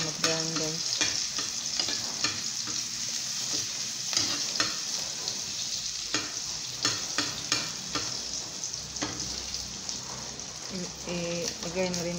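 Food browns while frying in a pan, a close, continuous sizzle broken by repeated scraping and stirring knocks from a utensil, with a voice briefly audible near the end.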